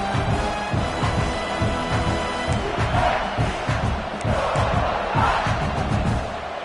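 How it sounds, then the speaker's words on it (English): Stadium crowd in a college football video game, a loud, sustained roar of chanting and yelling with rhythmic pulses, continuous throughout and easing slightly at the end. "this crowd is turning it up a notch"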